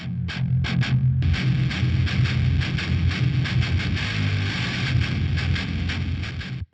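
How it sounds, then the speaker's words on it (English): Guitar chugs pushed through the Blown Out Wall amp sim plugin, producing an extreme, crushed distortion; dense, loud palm-muted chugging plays continuously with short rhythmic gaps, then cuts off abruptly at the end. "Extreme distortion."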